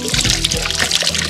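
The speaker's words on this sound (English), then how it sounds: "Ooh, mountain water!" Mountain water trickles and pours in the Swiss Alps, a close, continuous splashing babble filling the brief moment.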